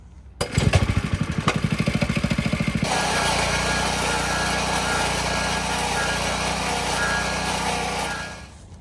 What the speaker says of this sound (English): So that's a stump grinder, and that's how you use it. We're gonna just keep chipping away at it.